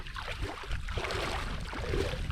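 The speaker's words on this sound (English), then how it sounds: "just the sound of my wife trudging her way up a shallow mangrove creek" Someone wades up a shallow mangrove creek, with close, continuous splashing and sloshing of water churned by legs in a steady trudging rhythm, no talk.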